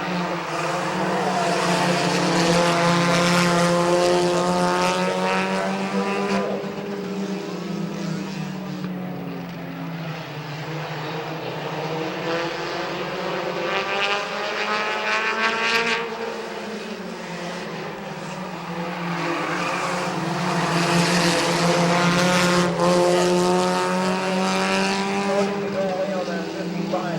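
Race cars lap Midvale Speedway, their engines a loud, continuous roar with harmonic whines that rise and fall as the cars pass through the corners, and an announcer's voice runs over the racing throughout.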